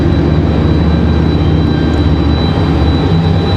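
A CRJ regional jet at Raleigh-Durham airport, readying for pushback, gives off a steady, loud broadband jet-engine roar that stays even throughout.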